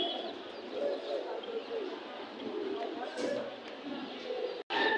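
Pigeons coo at a busy open-air pigeon market in Hasnabad, Bangladesh, a dense steady murmur of many birds mixed with crowd bustle and distant voices, moderately faint throughout.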